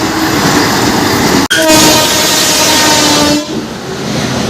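The Puri Kamakhya Express passes close by with a loud, sustained horn blast lasting about two seconds over the steady rumble and clatter of the rolling train.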